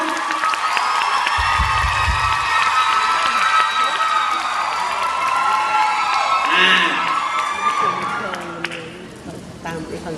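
A crowd at a fifth-anniversary concert cheers and whoops continuously, with scattered clapping and high shouts, a voice briefly speaking over the noise near the start.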